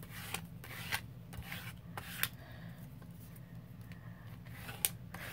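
Scissors trim the edge of a paper journal card. Quiet snips and paper rubbing recur at intervals over a low steady background hum, with no talk.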